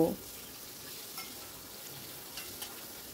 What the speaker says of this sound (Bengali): এইবার দিয়ে দিলাম ম্যারিনেট করা কাতলা মাছের টুকরোগুলো, সামান্য একটু ফ্রাই করে নেব